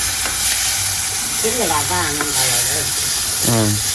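Sautéing in a frying pan for anchovy curry, a loud, steady close sizzle with stirring, while a voice speaks briefly over it.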